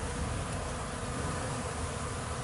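A thick, continuous drone of many honey bees hovering around a hive, steady and close for the whole stretch.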